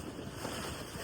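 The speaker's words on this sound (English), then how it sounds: "it's really windy out here" Wind buffeting a microphone at a beach, a steady low roar with surf-like hiss, faint and continuous for a brief moment with no talking.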